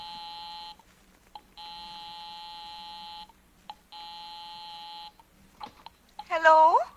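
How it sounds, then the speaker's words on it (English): A house phone rings in an old radio drama, with two long electronic ring bursts separated by pauses and a short voice answering at the end. "I'll give 9B a ring first on the house phone."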